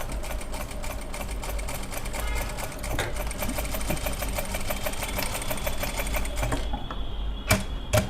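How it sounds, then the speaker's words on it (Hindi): A sewing machine stitches cloth in a circular silk-embroidery pattern. It gives a fast, steady mechanical clatter of rapid needle strokes, then stops near the end, leaving a couple of sharp clicks. "इसको कपड़े को मैं सिलाई करते वक्त ही देखो घुमा रही हूँ।"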